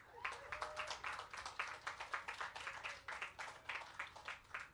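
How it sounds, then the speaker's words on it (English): Light, scattered clapping from a small audience at a road and roundabout commissioning ceremony, with an irregular patter of claps that rises and falls, fairly faint, and a brief voice early on. "So another round of applause for Crystal."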